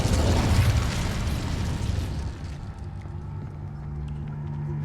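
The Incendio fire spell in Hogwarts Legacy on PC goes off as a loud, dense whooshing burst of flame that roars for about two seconds, then fades into a low rumbling ambience.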